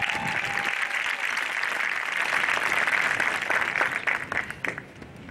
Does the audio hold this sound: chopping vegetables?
no